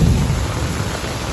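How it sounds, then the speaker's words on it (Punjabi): Heavy rain pours steadily in a loud, unbroken wash of noise with a deep rumble beneath it, close and constant throughout. "ਅੱਜ ਮੀਂਹ ਬੜਾ ਹੀ ਪੈਂਦਾ ਪਿਆ"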